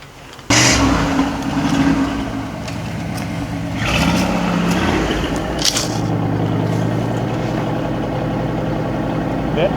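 A 1967 Buick Riviera engine starts up and settles into a steady, smooth idle close by, with a low continuous hum and brief clunks; a voice speaks at times.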